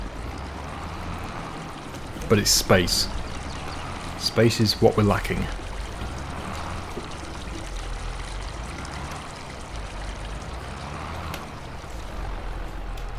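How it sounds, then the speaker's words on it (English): In Farming Simulator 22, a farmyard water fountain splashes and trickles steadily in the background, while someone talks over it for part of the time. "If you do hear a water fountain, by the way, it is that fountain there."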